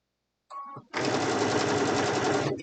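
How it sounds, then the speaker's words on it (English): Sewing machine stitching fabric for a pen holder: a short hesitant start, a brief pause, then a steady, fast needle rattle running close and loud for nearly two seconds. "And you notice I sew a little ways and I stop."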